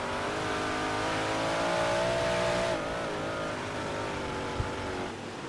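Big block modified race cars roar around the dirt track at Knoxville, a sustained, loud engine drone that rises and dips as the pack passes, with a brief sharp knock near the end.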